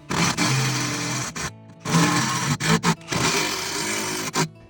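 Screws being driven down into a boat deck while a T-top is installed, a loud buzzing power-driver whine in three long bursts separated by short pauses.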